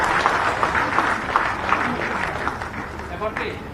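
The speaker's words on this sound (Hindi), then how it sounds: "जोरदार तालियों के साथ स्वागत करें माननीय मंत्री महोदय का।" An audience in an auditorium at a Jharkhand sports policy launch and athletes' honour ceremony claps to welcome the minister, steady applause mixed with crowd murmur and some nearby talk.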